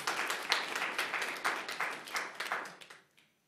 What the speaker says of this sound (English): Yeah, you need to clap that one up.